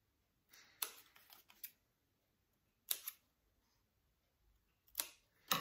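Scissors snip scrapbook paper in a paper-craft tutorial, with a few quiet, close, crisp cuts coming in separate short bursts amid silence and no talk.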